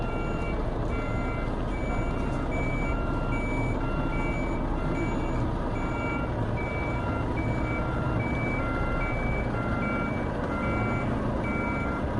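Steady, evenly spaced high reversing beeps from a truck backing up, over a constant low engine rumble, continuing throughout.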